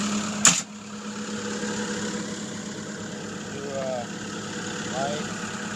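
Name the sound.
Caterpillar 299D compact track loader engine idling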